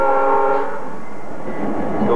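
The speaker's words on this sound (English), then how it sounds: "Looking at the work train there" A railroad work train rumbles close by with a loud sustained horn blast at the start, followed by heavy rolling noise of the passing cars.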